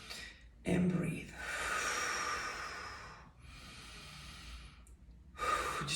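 Deep breathing during a chakra-focused workout, several long close inhales and exhales, one sharp snort-like intake at the start, heard alone with gaps between breaths.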